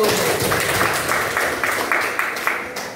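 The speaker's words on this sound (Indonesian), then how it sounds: "Tepuk tangan dulu." A group of students in a classroom claps in a burst of applause that fades gradually, with some voices mixed in.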